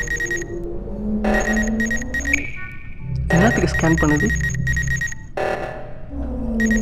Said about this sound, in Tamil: இது என்னது பச்சை கலரில் இந்த அலாரம் அடிச்சுக்கிட்டே இருக்குது